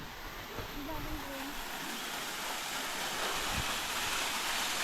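Steady rushing water of Dampalit Falls in Los Baños, Laguna, roars continuously, a broad hiss of falling water with faint voices and a few knocks underneath.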